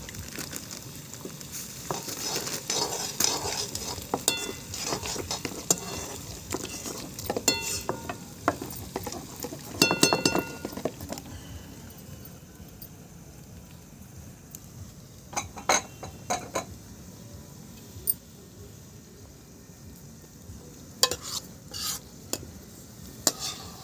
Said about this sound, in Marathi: आणि भाजीमध्ये सुद्धा याला आपण छानपैकी परतून घेऊ